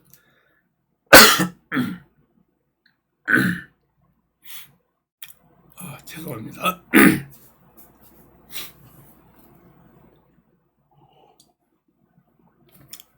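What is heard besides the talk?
sneeze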